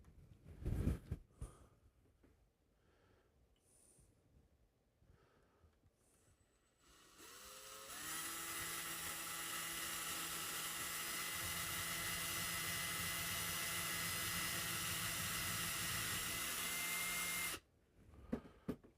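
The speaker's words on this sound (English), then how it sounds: "I think I'm going to drill a new hole for this next leg." A power drill whirs in a sustained, steady whine for about ten seconds before cutting off abruptly, preceded by a few quiet clicks and handling noises.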